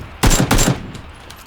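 Two quick bursts of rifle fire in PUBG Battlegrounds, loud and close, each a rapid cluster of shots with a short gap between them, fading into quiet game ambience.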